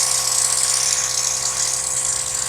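Airbrush spraying metallic paint onto a Mechagodzilla model, a steady, close, loud airy hiss with a faint compressor hum beneath, unbroken throughout.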